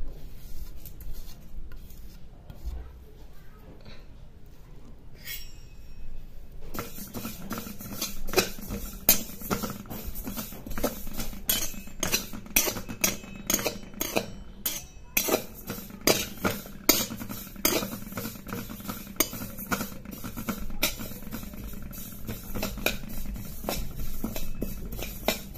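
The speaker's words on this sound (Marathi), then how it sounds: "आता याच कढईमध्ये जे तीळ आहेत आपले ते घालून घ्यायचे आणि तीळ सुद्धा भाजून घ्यायचे" Sesame seeds dry-roast in a kadhai, with scratchy stirring, light patter and crackling pops that grow busier after a quieter opening, close and steady, with no talking.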